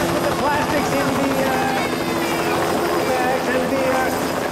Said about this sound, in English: Campers, please ignore the helicopter.